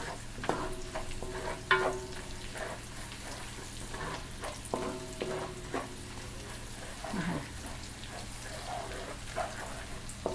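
Garlic frying in a pan, a soft continuous crackle and sizzle with a few spatula scrapes and light metallic taps, fairly quiet and close, with no speech.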